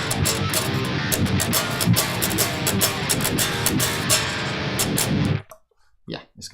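A programmed modern metal demo track with guitar plays loud and dense with driving rhythmic hits, then cuts off abruptly near the end, leaving a few sparse bursts.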